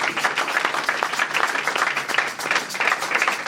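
A church congregation applauding during a service, steady close-sounding clapping throughout, with faint voices mixed in.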